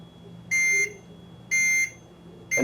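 Electronic timer on a Spangle Elite heat press sounding three steady beeps about one second apart, each a sustained bright tone, the third cut short, close by with no talking.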